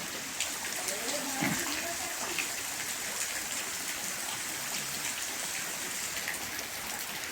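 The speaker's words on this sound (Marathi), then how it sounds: "हा पाऊस पडत आहे" Steady rain hisses and patters across the whole stretch, a constant wash of falling water with no break.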